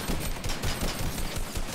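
Rapid bursts of automatic gunfire in a Fortnite match, a dense rattling stream of close, loud shots with short uneven gaps, heard on their own.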